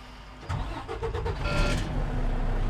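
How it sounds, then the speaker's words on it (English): A truck engine cranks with a quick burst of starter whirring, then catches and settles into a steady, close rumble with no talking over it. "I will start my truck."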